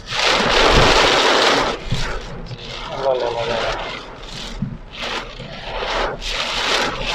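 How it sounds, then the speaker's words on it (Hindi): Heavy rain driven by strong wind in Makkah, near a mosque: a loud, continuous roaring wash of rain and gusts that swells and dips throughout, with a voice faintly present. "वो तेज़ हवा के साथ बारिश है भाई, ये देख रहे हैं।"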